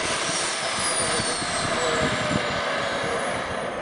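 A MiG-21 fighter jet's engine produces a steady, loud roar with a broad rushing hiss that holds constant throughout, heard at an air show.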